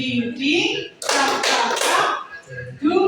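At a workshop session, adults answer a tepuk semangat call with three quick bursts of rhythmic group clapping, with a voice speaking before and after.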